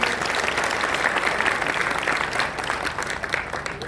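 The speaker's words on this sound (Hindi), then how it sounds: "तो ताली बजा करके इनका स्वागत करिए।" Audience applause at a political rally, a steady, dense clapping from a large crowd that holds for several seconds without letup.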